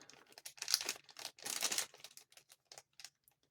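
A crinkly plastic zipper bag holding a Trivisa Andromeda knife rustles and crackles in short bursts, handled close up, with quieter scattered crinkles trailing off.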